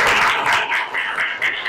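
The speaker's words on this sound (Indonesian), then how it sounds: "kasih tepuk tangan untuk kelompok 1" Classroom students applauding a presenting group, a brief burst of close, loud clapping with uneven rhythm.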